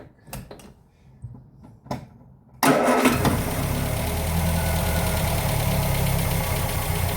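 Ford Fiesta Mk1 engine being revived with choke: a few faint clicks and cranks, then it fires abruptly and settles into a loud, steady, slightly rough run.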